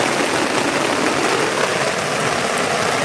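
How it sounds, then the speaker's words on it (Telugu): Heavy rain pours down steadily, a close, loud, even hiss of drops striking the ground and surfaces, with a faint low hum underneath and no voices. "చూడండి వర్షం అయితే పడుతుంది"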